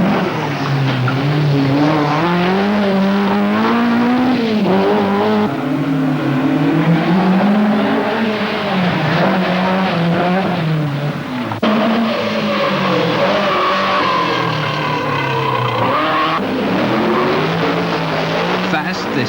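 A rally car races flat out through the town stage at Ramelton during the 1983 Donegal International Rally, its loud engine revving up and down in rising and falling sweeps that fill the whole stretch.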